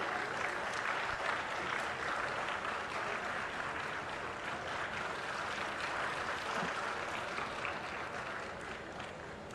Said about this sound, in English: Let us give a resounding round of applause to this landmark achievement.